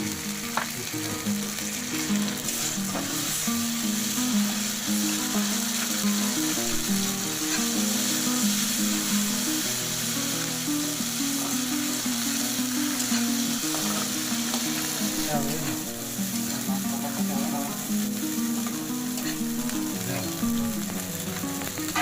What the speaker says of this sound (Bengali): আরও কিছুটা তেল দিয়ে মশলাটা ভালো করে কষিয়ে নিব।